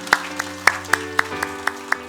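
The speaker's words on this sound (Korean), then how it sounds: "하나님께 영광의 박수 한번 올려드립시다." Church congregation clapping during a Sunday worship service, a short run of about eight evenly spaced claps in a steady rhythm, fairly faint under a sustained organ-like tone.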